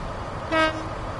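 A train horn sounds once, a short steady honk from the train being ridden, rising out of a low rumbling background and fading after about a quarter second.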